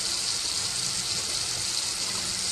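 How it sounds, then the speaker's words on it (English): Liquid dye pours steadily into water, a continuous close hiss-like splash with no pauses. "I'll pour some dye in."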